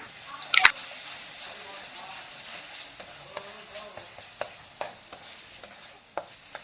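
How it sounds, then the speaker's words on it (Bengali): Masala of coriander powder, cumin powder and salt fries in a pan for a katla fish curry, a continuous hissing sizzle marked by a sharp clatter at the start and regular light spatula ticks throughout. "2-3 মিনিট একটুখানি ভালো করে মশলাটাকে ভেজে নেব।"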